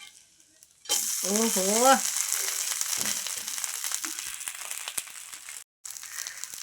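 Barnyard millet (bhagar) dosa batter sizzles steadily on a hot pan, a continuous close frying hiss that starts suddenly. A brief voiced exclamation rises over it near the start.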